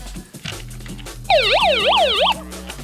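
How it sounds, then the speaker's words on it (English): A shrill electronic siren from a Life Gear Stormproof crank light radio wails up and down in a fast, looping sweep for about a second, standing out over faint background hum. "That was the siren."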